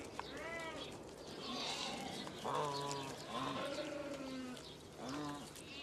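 Sheep and lambs on the open steppe, several wavering bleats calling near and far against a soft outdoor background.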